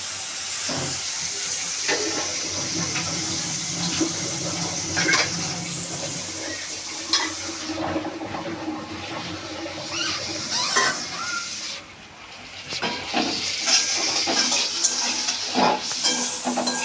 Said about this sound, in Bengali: করলাটা আমি একটু ভেজে নেব।